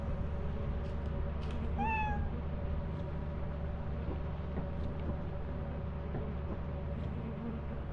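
A cat meows in a video game: one clear rising-and-falling meow near the start, over a steady low engine-like drone and faint ambient game noise, with no talk.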